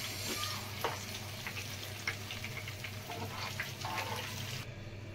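Ridge gourd vada pieces deep-frying in oil, giving a continuous bubbling sizzle with scattered crackles and spoon scrapes, close and moderate in level, and the sound cutting off abruptly at the end, with no one speaking.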